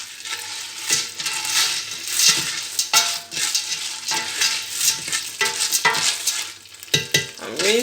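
Popcorn kernels stirred in a pot, a close, continuous hissing sizzle broken by rhythmic scraping and rattling strokes, with a few sharper clinks toward the end.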